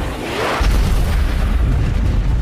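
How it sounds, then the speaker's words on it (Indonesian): A rocket explosion in an action war film set in Iraq roars as a heavy, sustained rumbling blast, loud and dense, with deep low-end boom rolling on for the whole moment. "melepaskan salah satu roket sampai ledakan dahsyat pun terjadi menghanguskan"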